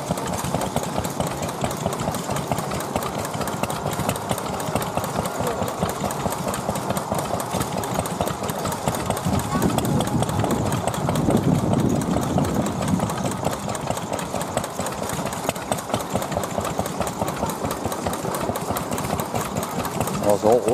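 A vintage oil engine runs at the Penhale vintage rally with a steady, rapid mechanical chugging. It continues throughout, loud and close, while people chat over it.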